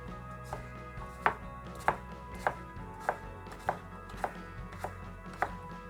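A knife chops watermelon rind into small pieces for jam, striking the board in a steady, evenly spaced series of about ten crisp, close taps over a low room hum.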